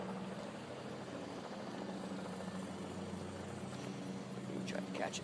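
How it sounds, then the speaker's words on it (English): A low-flying reddish orange helicopter drones steadily overhead, its rotor and engine noise continuous throughout, with a few brief sharper noises near the end. "I don't know what this helicopter is doing."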